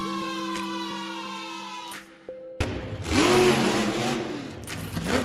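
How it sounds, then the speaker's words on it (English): A Maximus monster truck engine roars loudly after a brief musical lead-in, its revs rising and falling in a broad, rumbling burst close at hand. "It shows its power by roaring down the track and jumping high like a fearless king of the arena."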